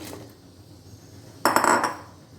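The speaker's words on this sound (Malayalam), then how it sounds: "ഇനി അതിലേക്ക് കഴുകി വെച്ചിട്ടുള്ള ഒരു കഷ്ണം മത്തങ്ങ, ഒരു കായ അതിട്ട് കൊടുക്കാം." Pieces of washed pumpkin and raw plantain drop into a metal pressure cooker with a short, sharp clatter of hard pieces against metal, close and loud, after a quiet stretch.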